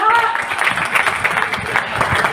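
Applause from the audience at an Independence Day comic poetry recital (kavi sammelan) at a club, steady dense clapping throughout with voices mixed in.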